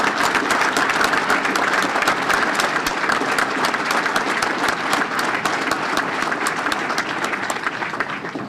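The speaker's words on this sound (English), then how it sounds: "Please join me in a round of applause to show appreciation for their work." Steady applause from a large audience at a Boston Fire Department recruit graduation ceremony, dense continuous clapping holding loud and even for the whole stretch before tapering slightly at the end.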